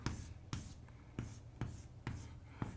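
Pen strokes writing out a truth table on paper, about six short scratchy bursts at a steady pace, close and quiet, with no voices.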